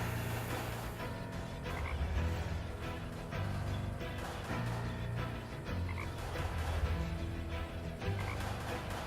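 Frog croaking in the video game Deponia, a steady, dense run of low repeated croaks that continues throughout, fairly loud and alone with no voices.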